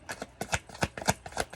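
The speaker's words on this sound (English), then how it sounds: "Let's get just shuffling a little bit." Tarot cards are shuffled softly up close, a quick run of papery riffles and taps in an uneven rhythm.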